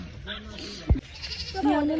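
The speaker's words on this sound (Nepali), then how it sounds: "यो चाहिँ नेपालको बाख्रा हेर्नुहोस्" A goat in a Nepali village gives a couple of short, wavering bleats amid close conversation, with a sharp knock in between.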